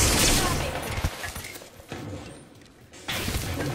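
Bursts of rapid gunfire in a battle royale shooter, dense volleys at the start and again near the end with a quieter gap between, alongside game effects and a player's voice.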